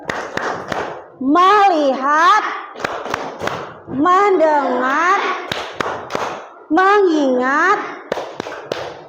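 Children in an Indonesian classroom perform the Tepuk Fokus clapping chant, sharp rhythmic hand claps in quick bursts alternating with loud sung group chanting, repeated three times in a close, lively room.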